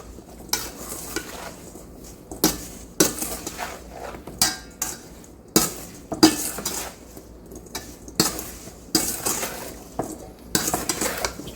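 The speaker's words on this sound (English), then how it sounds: "you want to give this a good stir. Just get in there, mix it all up nicely" A spoon stirs berries and sugar in a bowl, giving repeated scraping clinks against the sides in an uneven rhythm, close and fairly quiet, with no voices.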